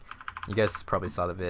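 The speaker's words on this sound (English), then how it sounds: "that's the sound of my new keyboard, by the way." Rapid clicking keystrokes on a new computer keyboard, a quick close burst of taps that keeps going under a voice once he starts talking.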